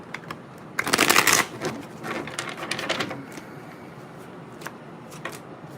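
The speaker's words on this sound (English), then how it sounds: "One more shuffle." Tarot cards are shuffled close up in a quick riffling burst, followed by softer shuffling and a few light taps, with no talking.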